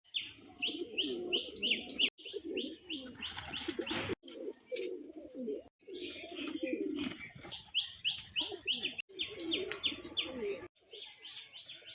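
Pigeons kept for sale, including a restless male, coo and chirp in repeated bursts with wing flaps and fluttering close by, the calls cycling in short phrases over a busy loft background.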